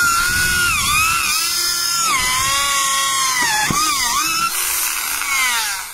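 A power drill with a screwdriver bit whines continuously at high pitch while building foundation formwork, its tone rising and dipping as the load changes, loud and close with no speech.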